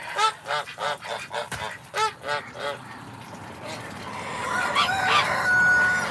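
Geese honk loudly and repeatedly up close in a steady series of calls, followed by a noisier stretch with wind or rustling and a faint whistle-like tone.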